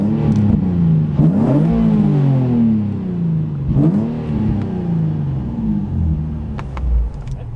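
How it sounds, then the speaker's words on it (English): A car engine revving hard in a shop while still cold, two loud rising-and-falling throttle blips over a steady close idle rumble, with a few faint clicks toward the end. "Oh, you want me to rev up?"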